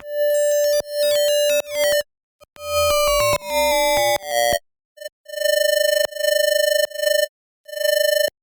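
An Ableton Operator triangle-wave synth run through the Redux bitcrusher plays a series of gritty, buzzy sustained notes with shifting, stepped pitch patterns, separated by short gaps, loud and alone.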